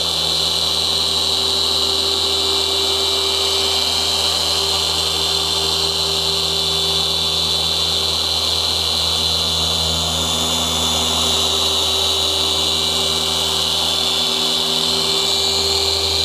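Steady, unbroken whir of a polishing machine running at speed 5 while buffing car paint on a Nissan 350Z, a loud, close, constant drone with only slight shifts in tone.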